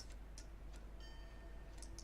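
Clocks ticking in Tick Tock: A Tale for Two, a faint, steady sequence of light ticks at regular intervals over a low hum, with no talking.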